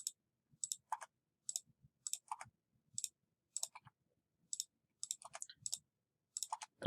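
Sharp computer key clicks from repeatedly pressing enter while modelling a 3D die, arriving in quick irregular pairs and bursts, close and fairly quiet, with no talking.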